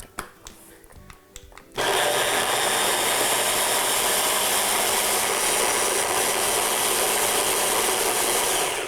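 A blender mixes pineapple vinaigrette ingredients: a few light clicks and knocks, then the motor kicks in at full power and roars steadily and loudly, unbroken to the end.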